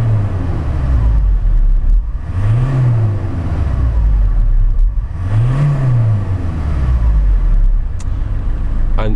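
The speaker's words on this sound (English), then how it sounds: "I'll keep quiet and I'll give it a couple of revs up and down." A diesel Ford Transit 350 Luton van engine idles loudly, then revs up and back down twice in smooth rising and falling swells, close by with no voices.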